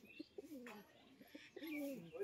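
A pigeon coos softly at close range, several rolling low calls in short phrases with brief pauses, quiet and otherwise calm.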